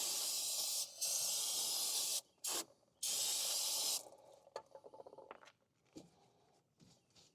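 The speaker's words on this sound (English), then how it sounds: "Let me get some brake clean." Brake cleaner from an aerosol can sprayed onto a car's brake parts during a mobile mechanic's repair: several long, loud, close hissing bursts with short breaks, then a few clicks and light handling noises.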